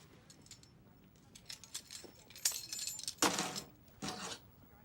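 Metallic jingling of a bunch of keys, several bright clinking shakes growing louder toward the end, close to the listener.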